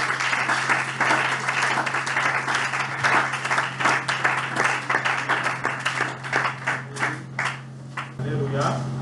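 A church congregation applauds during a worship service. The clapping is loud, dense and sustained, with a low hum underneath and voices mixed into the crowd noise.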